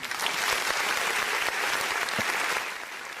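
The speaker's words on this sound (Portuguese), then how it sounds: "Todo programa eu quero uma salva de palmas para Malu Gaspar" Canned applause plays on a Portuguese-language talk show, a short burst of dense clapping that holds steady and then tapers slightly.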